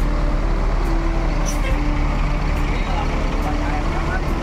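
A Duta Budaya intercity bus rumbles into a busy terminal, its engine a loud, steady low drone with faint tonal whines and brief higher clanks over the idling noise.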